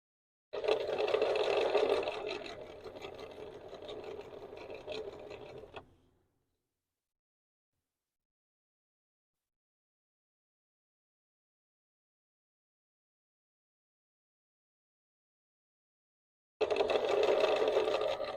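Quilt binding being stitched on a sewing machine: a steady mechanical whir runs for about five seconds, then stops into silence, and a second burst of stitching starts near the end.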